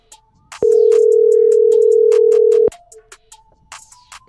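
A steady, loud telephone tone holds for about two seconds while a call is being placed, framed by brief clicks and faint background sounds.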